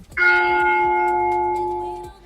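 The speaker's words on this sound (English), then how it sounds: "It's bell sound effects from 5 years ago on YouTube." A single struck bell sound effect tolls once, loud and close, its clear ringing tone sustaining and slowly decaying over about two seconds with no other sound.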